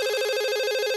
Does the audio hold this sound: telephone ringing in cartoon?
yes